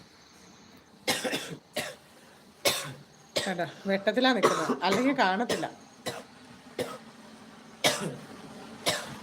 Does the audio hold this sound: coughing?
yes